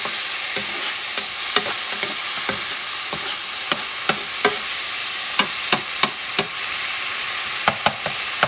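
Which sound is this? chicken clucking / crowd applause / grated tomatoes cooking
grated tomatoes cooking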